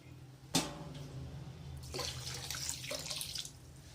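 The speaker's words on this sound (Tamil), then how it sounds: "இப்போ தண்ணி வந்து இதுக்கு அந்த சீனி முங்குற அளவுக்கு ஊற்றணும்" Water poured from a tumbler onto three tumblers of sugar in a pan for Mysore pak syrup, a faint splashing trickle after a light knock, quiet and close in a home kitchen.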